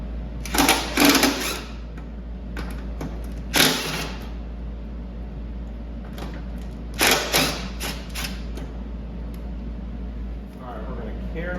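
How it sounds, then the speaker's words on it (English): Bolts on the bearing housing of an Ariens 624E snowblower loosened with a 3/8 socket, a few bursts of quick ratcheting clicks separated by pauses, close, over a low steady hum. "Next, using a 3/8 socket, we're gonna remove the bearing housing on the left side."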